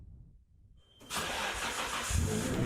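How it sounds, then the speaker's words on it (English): A car engine starts after near-silence, then settles into a steady, fairly loud exhaust rumble with a slight swell near the end. "Old exhaust, way quieter than it is now."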